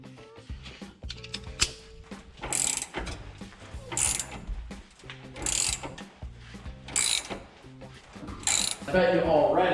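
Ratchet wrench cranking an 18 mm torsion bar adjustment bolt under a pickup truck, bursts of loud metallic clicking in repeated turning strokes, with heavy mechanical clunks and some movement noise.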